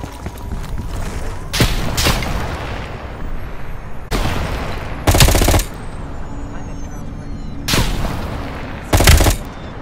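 Gunfire in the Call of Duty Black Ops Cold War video game comes as loud, close automatic bursts repeating every couple of seconds over a rumbling battle background.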